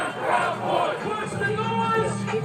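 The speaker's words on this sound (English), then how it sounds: "Anti-fascist crowd opposes far-right Minnesota governor's residence, December 5th, 2020." An anti-fascist protest crowd outside the Minnesota governor's residence roars in a brief, dense burst of overlapping shouting voices, loud and continuous.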